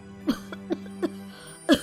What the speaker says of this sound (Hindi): और ये इतनी खांसी क्यों आ रही है तुझे?